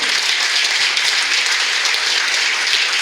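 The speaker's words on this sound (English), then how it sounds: "I think they deserve a huge round of applause for even trying" A dense, steady wash of applause from the crowd at a Christmas party hypnosis show fills the space, cheering the volunteers without a break.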